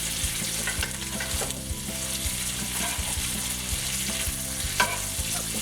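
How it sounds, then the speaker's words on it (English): A steak sears in hot butter in a pan, a loud, continuous close sizzle with occasional stirring clatter and small pops throughout. "some of those gray spots that we had before with that hot butter will continue the cooking process and really get a nice crust on the outside of that steak"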